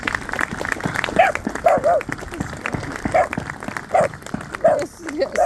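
Crowd applause for Gold Star families at a Memorial Day gathering, a moderate, continuous patter of clapping, with a dog barking repeatedly nearby at irregular intervals over it and voices mixed in.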